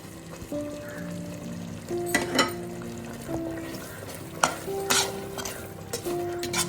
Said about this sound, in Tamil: கிளறி விடுவோம் ஒரு கைவிடாமல் ஒரு மூணு நிமிஷம் கிளறுவோம்